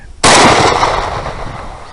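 A single loud rifle shot at a wild hog during a nighttime thermal-scope hog hunt in Texas, a sharp close blast followed by a long decaying rumble and echo, with no speech.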